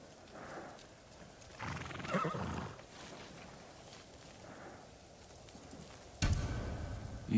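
A horse snorts and whinnies in Ghost of Tsushima amid soft ambient noise, then a louder burst near the end, with no talking.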